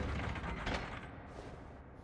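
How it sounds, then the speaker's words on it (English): A lever mechanism pulled in the Dark Souls video game gives a heavy grinding, rumbling mechanical sound that slowly fades over two seconds. "Let's go and pull the lever."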